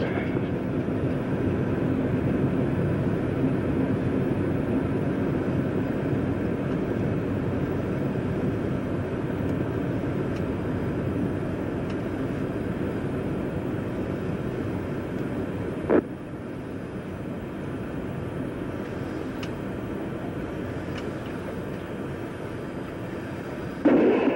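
Space Shuttle main engines during the STS-65 launch, heard from inside the crew cabin as a steady, heavy, broadband roar and rumble that continues without a break, with one brief knock partway through.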